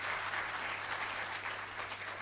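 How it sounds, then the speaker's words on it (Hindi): An audience at a Hindi talk on Hindu culture and gotra tradition claps for the organising committee, producing a dense, even burst of applause with no talk over it. "तो मैं चाहता हूं कि सबसे पहले उस आयोजन समिति के लिए तालियां बजाएं आप लोग।"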